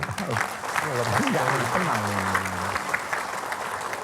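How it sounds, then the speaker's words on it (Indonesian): Steady applause from a television studio audience fills the clip, with a voice speaking and tones sounding over the clapping. "tepuk tangan semua Bu"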